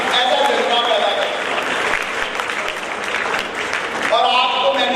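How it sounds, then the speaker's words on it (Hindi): An audience at a school event applauds loudly and without a break, a thick, continuous clatter of clapping with a voice carrying over it at the start and again toward the end. "तालियां बजा करके हमारा हौसला बढ़ा दो"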